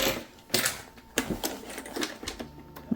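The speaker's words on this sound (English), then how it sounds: "we're going to stitch that binding in place." A sewing machine stitches binding onto a synthetic leather pouch in short close bursts of rapid mechanical clatter, stopping and starting with loud thumps between runs.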